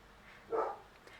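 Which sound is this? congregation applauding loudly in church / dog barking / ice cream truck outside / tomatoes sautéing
dog barking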